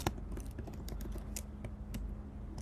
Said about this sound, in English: I'm going to hit enter and then type my Google font